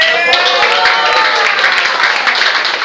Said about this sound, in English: I can only go with your applause